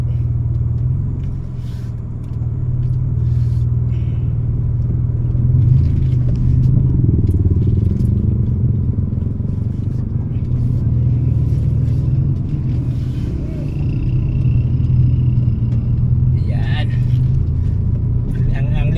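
Busy weekend road traffic makes a steady, close engine rumble and low road drone throughout, with brief clatter and scraping, while people talk over it.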